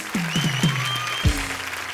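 Studio audience clapping for a guest on the comedy show Comedy Circus, a steady bed of applause with a few sharp thuds and tonal sweeps layered over it.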